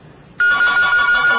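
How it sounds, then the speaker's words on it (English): Telephone bell rings for an incoming call on a radio call-in show, starting abruptly and holding a bright continuous trill, close and clear with no voices over it. "We do have another phone call"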